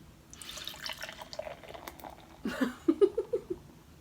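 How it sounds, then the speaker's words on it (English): Pabst Blue Ribbon beer poured from a can into a glass, a soft liquid patter that swells into a run of close, gurgling glugs toward the end, with no talking. "That's a sloppy pour, my friend."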